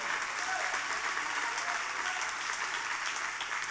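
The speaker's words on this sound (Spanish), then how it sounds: "O dale ese aplauso a Dios." Church congregation applauding during a Spanish-language Easter resurrection sermon, a continuous, even roar of many hands clapping at full strength for the whole stretch.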